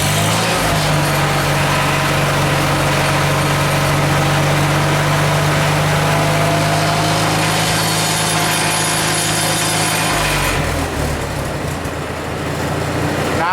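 Farmall H tractor engine idling loudly and steadily close by, a constant low drone that shifts and softens near the end.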